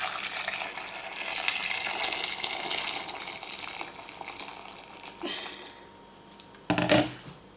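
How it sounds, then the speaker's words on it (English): Boiling water gushes steadily into a large pan over potatoes for several seconds, then tapers off with a brief clatter and a final short splash near the end. "I'm just gonna add some boiling hot water over it"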